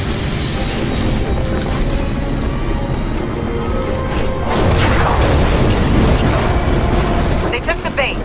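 A cannon blast in the sci-fi shooter game Titanfall comes as a loud, heavy rumbling boom that swells midway and sustains, over a dense mechanical din with a voice speaking.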